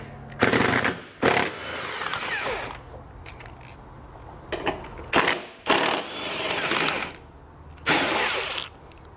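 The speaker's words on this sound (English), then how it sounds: "We're going to have four 15 millimeter bolts that we need to remove from our bumper beam." Impact wrench or ratchet whirring in loud bursts while 15 mm bolts are removed from the bumper beam of a 2020 Chevrolet Traverse during a trailer hitch installation, several separate runs with pauses between them, close up.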